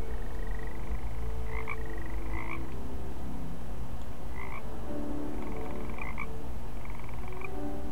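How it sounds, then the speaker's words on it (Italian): Frogs croak in the video game Woven, a repeated chirping croak over a steady watery ambient bed, loud and continuous with no talk. "ma anche le rane sono di lana nell'acqua?"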